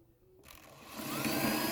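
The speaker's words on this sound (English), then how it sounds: "I'm going to drill a hole real quick." A battery drill starts up and spins steadily, drilling a hole in a plastic laundry container, its whine rising and growing louder over a second or so, close by.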